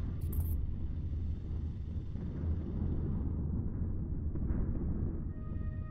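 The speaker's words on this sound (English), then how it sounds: "That's a low storm there." Storm rumble in the space game Starsector, a deep continuous low roar throughout, loud and steady with a brief high click at the start.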